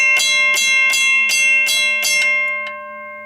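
A WCH 0333 mechanical railroad crossing bell rings six sharp, evenly spaced strokes at close range, each with a long metallic ring over a steady electrical hum, followed by a last lighter tap.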